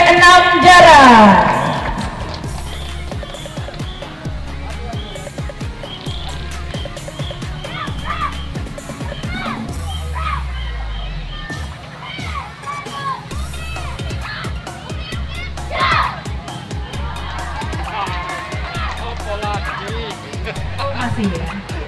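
A large crowd at an outdoor marching competition between primary schools in Jarai, Lahat, applauds and cheers for the SD 6 Jarai team. Sustained, loud clapping and shouting with children's voices carries throughout, with a lively swell near the start.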